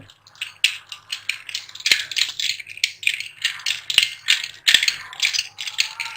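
Ice cubes rattle and clink against a glass as lemon squash is stirred, a quick, close, steady clatter of rhythmic knocks with a few sharper clinks along the way.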